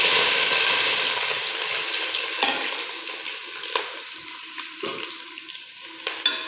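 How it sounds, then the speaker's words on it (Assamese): Onions sizzling and crackling as they fry in hot oil in a home kitchen, a steady close hiss with occasional sharper stirring clicks, no voices. "এতিয়া মই ইয়াত পিঁয়াজ দি দিম"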